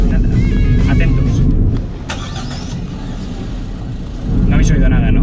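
A 2018 Suzuki Swift Sport runs with a quiet, subdued exhaust and engine note, a soft steady hum lasting several seconds that dips slightly midway before swelling again.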